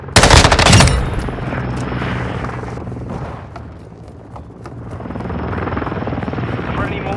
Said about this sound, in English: Friendly Overwatch helo in the area.